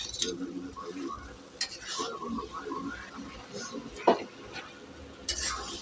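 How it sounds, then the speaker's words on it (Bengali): Chicken paste being stir-fried with vegetables in a pan for a mixed chop filling, a soft sizzle under a speaking voice, punctuated by a few sharp clinks and scrapes of a utensil against the pan. "এবার আমি চিকেন পেস্টটা দিয়ে দেবো এর মধ্যে। দিয়ে আবার ভালো করে কষিয়ে দেবো।"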